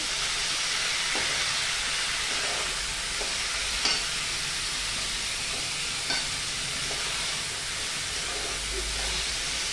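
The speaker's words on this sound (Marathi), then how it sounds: "आता आपण याच्यामध्ये घालणार आहोत बारीक चिरलेला टोमॅटो, छान हलवून घ्यायचं" A steady loud sizzle and hiss comes from a pan where chopped tomato is stirred into well-fried onion, with faint occasional spoon taps beneath the continuous frying noise.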